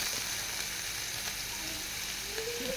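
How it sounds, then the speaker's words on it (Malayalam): Chopped mushrooms sizzle in a pan with sautéed garlic, a steady close hiss of frying that carries on evenly throughout, with faint stirring and no voices. "ഇനി അതിലേക്ക് നമുക്ക് അരിഞ്ഞ് വച്ചിരിക്കുന്ന കൂണിട്ട് കൊടുക്കാം"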